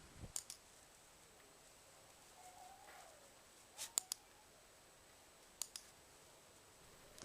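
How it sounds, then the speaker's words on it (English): A dog training clicker snaps a few times in a quiet room: one pair of sharp clicks near the start, another cluster in the middle and a final pair later, each short and faint. "I click while moving."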